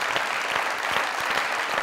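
Dense applause from a studio audience at a comedy talk show, steady loud clapping throughout with no voices over it.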